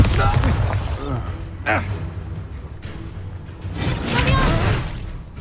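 A Bombarda blasting spell from Hogwarts Legacy goes off with a booming thud and whooshing burst amid game sound effects, while a voice speaks over the action.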